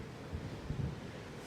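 Low, blustery wind rumbles against the microphone over a dull wash of rough, stormy open sea, heard aboard a cruise ship, gusting briefly in the middle of the short stretch.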